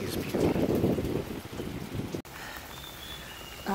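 Heavy rain pouring over a misty oolong tea village in the mountains, a dense steady roar of drops on surfaces that eases slightly partway through, with a brief sharp click and no voices.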